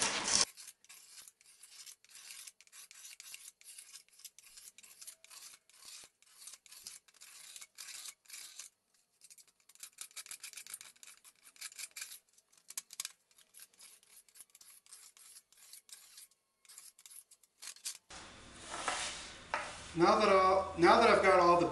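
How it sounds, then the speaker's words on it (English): A paint scraper scrapes dried glue off an end-grain wooden cutting board in quick, repeated rasping strokes with short pauses between them, and a voice starts talking near the end. "So I'm going to go ahead and just use this paint scraper like Norm did."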